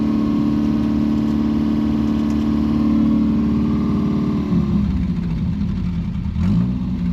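A Daihatsu F10 engine idles close by with a steady mid-pitched throb, its note dipping and settling lower partway through, then continuing evenly with no talking.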